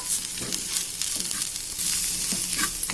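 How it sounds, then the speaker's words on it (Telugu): Asafoetida and turmeric frying in a pan for a yogurt chutney, a continuous close sizzle broken by the scrape and clatter of repeated stirring, with no talk. "అటు ఇటు తిప్పుకొని చక్కగా ఫ్రై చేసుకోవాలి."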